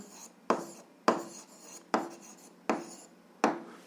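A pen writing an answer on paper in a seventh-grade algebra lesson, heard as six short, evenly spaced scratching strokes close up, with quiet pauses between them and no talk.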